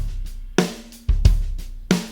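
Bass drum treated with low and high shelving EQ, four punchy kicks at uneven spacing, each with a deep thud, a bright click on the attack and a short ringing tail, close and alone.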